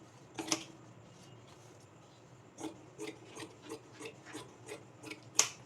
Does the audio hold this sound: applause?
no